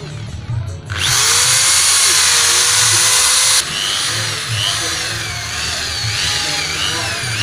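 An electric drill spins a folded, tied clutch cable wire for valve lapping: a loud, close, high whine held for a few seconds, then a rougher wavering grind as the wire works, with voices murmuring underneath.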